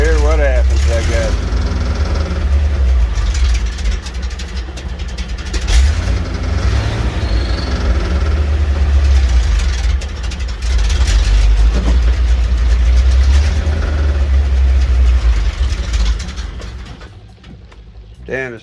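A carbureted car engine idles steadily while warming up, a low continuous rumble that runs loud and close for most of the stretch before dipping near the end.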